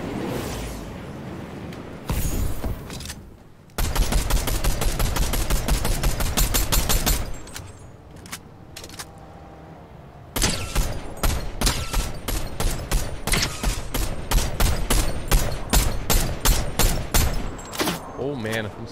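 Rapid gunfire in the video game Fortnite rattles in long, dense bursts with short pauses between them, loud and close, while a player talks now and then.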